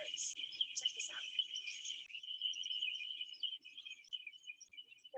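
A huge flock of birds calls in Maui, a dense, unbroken wall of high chattering and chirping that stays fairly steady throughout, with a few sharper calls near the start.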